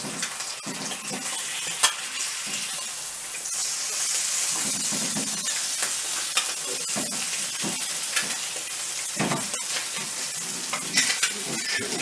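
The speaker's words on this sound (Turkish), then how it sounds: "Tereyağlanan ekmeklerimizi. Ve güzel kızartıyoruz." Buttered bread and egg for a Korean street toast fry in a pan with a steady crackling sizzle, punctuated by occasional scrapes and clinks of a utensil.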